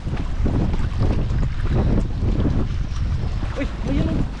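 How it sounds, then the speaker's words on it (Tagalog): Strong wind roars steadily across the microphone, a dense low rumble with gusty surges throughout, over what sounds like open water at a tilapia fishing spot. "Lumakas na naman yung hangin."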